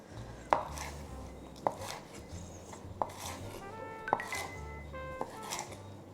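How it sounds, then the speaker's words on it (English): Knife roughly chopping ingredients on a cutting board for soy sauce and five spice roast chicken: about five sharp, separate chops at an irregular pace, close and moderately loud over quiet kitchen background. "I'm just going to give it a rough chop."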